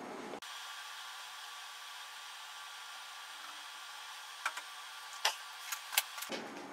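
A face mill on a milling machine spins at 1600 RPM, cutting 1 mm deep into a part with a steady, fairly quiet whirring drone. A few sharp clicks and ticks come near the end before the machine stops.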